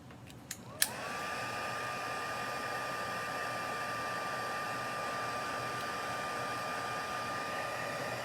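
A heat tool switches on after a couple of sharp clicks and blows with a steady, loud whirring hiss and a constant whine, used to heat set scratch n sniff stamping.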